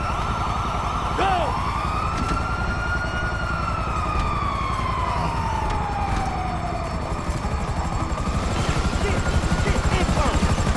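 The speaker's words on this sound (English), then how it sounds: "The Bureau chopper seen you on the side of the building." Police helicopter rotor thumping steadily with a wailing siren sweeping up and down during a chase in Grand Theft Auto 5, loud and continuous, with a voice speaking over the mix.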